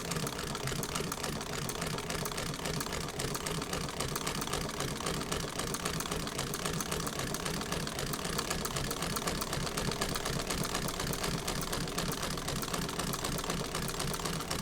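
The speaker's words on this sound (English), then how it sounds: "But that's sewing very happily." Singer 12 fiddlebase treadle-era sewing machine, oily and a little grubby, stitching steadily at a quiet, even rhythm, a continuous fine mechanical patter with no voices.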